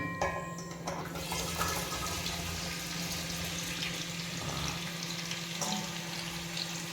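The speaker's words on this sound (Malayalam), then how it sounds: "ഇനി ഇതൊന്ന് വഴറ്റിയെടുക്കും" Hog plums sauté in hot oil for a pickle, a steady, fairly quiet hiss and sizzle that runs evenly throughout with a few faint clicks.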